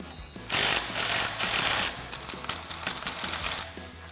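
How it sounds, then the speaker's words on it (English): Metal ratcheting and clicking of an 18mm wrench and swivel socket loosening sway bar end link nuts on a Jeep Gladiator JT during a suspension lift, sounding as close, busy bursts of rapid clatter. "We're going to take our 18mm wrench and our 18mm swivel socket and remove these two."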